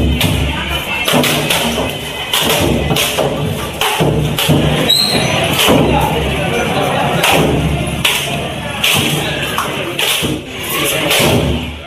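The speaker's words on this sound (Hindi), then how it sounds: "उसके बाद 108 नारियल चढ़ाए गए, जश्न में फोड़े गए" 108 coconuts being smashed as an offering at a Tamil Nadu chief minister swearing-in celebration: repeated heavy, loud thuds at irregular intervals over a constant roar of crowd noise.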